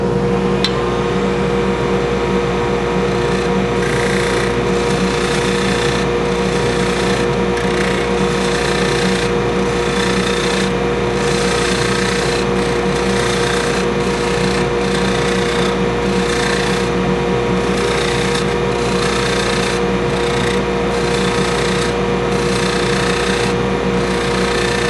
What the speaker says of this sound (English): using the carbide cutter, we'll just slowly ease our way in